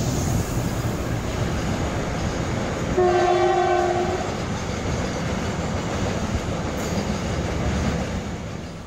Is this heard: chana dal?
no